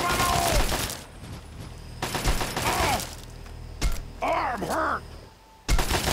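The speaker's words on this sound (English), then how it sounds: "they always stop, open up fire, shooting at him" Bursts of gunfire in the video game Fallout 3 as super mutants open fire, several loud rapid volleys separated by pauses, with a voice calling out between them.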